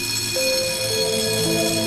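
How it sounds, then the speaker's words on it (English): An electric alarm bell wired to a power supply beside a safe in a vault chamber rings continuously and loudly, a steady metallic clamor held for the whole span with no pauses. "This is power supply for the bell"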